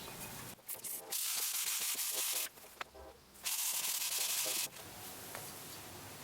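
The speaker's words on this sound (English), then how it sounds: "I'm gonna use a little 220, some steel wool maybe to start, just to see if that gets it" A Volkswagen Beetle brake part is rubbed by hand with 220-grit sandpaper and steel wool: steady, close rasping scrubs in bursts of a second or two, separated by short pauses.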